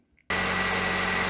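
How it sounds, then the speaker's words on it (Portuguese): A Honda City's i-VTEC engine abruptly roars to a steady idle after a moment of quiet, a loud, even rumble close by with no voices. "Esse aqui é o barulho do motor dele."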